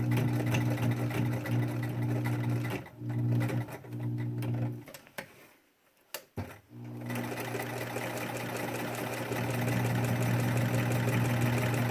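A sewing machine stitches a pleated cloth face mask, its motor buzzing in a steady mechanical rattle that pauses twice briefly before running on at an even pace.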